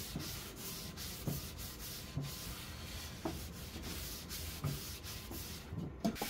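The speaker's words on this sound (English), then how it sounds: "I came back with a 220 grit sanding sponge and went over the surface" Close, steady scratchy rubbing of a 220-grit sanding sponge over dried, stained wood furniture, with repeated back-and-forth strokes at an even pace.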